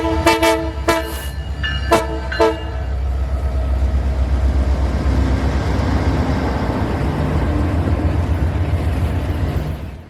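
A freight train with mid-train DPU locomotives rolls past close by, opening with several loud horn blasts followed by a sustained heavy rumble and clatter of wagons that continues to the end.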